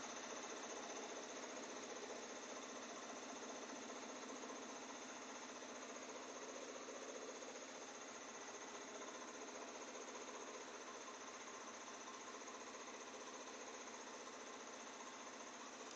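An embroidery machine stitches a mug rug on denim with a steady, even mechanical whir and rapid needle chatter that runs unbroken throughout at a low, consistent level, with no voices.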